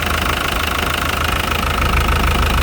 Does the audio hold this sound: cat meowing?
no